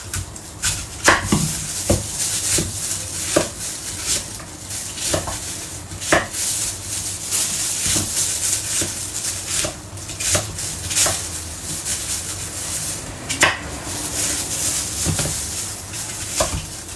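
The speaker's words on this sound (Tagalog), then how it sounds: "balatan na natin tong dalawang apple na yan. Saka natin slice ng maliliit." Knife chopping peeled apples into small pieces on a board, a series of sharp, irregular cutting knocks over a quiet kitchen background, close and clear.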